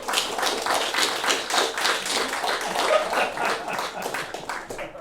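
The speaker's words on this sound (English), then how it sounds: "give yourself a big round of applause" A stand-up comedy audience claps together in a dense, steady burst, close and lively, with no talking over it.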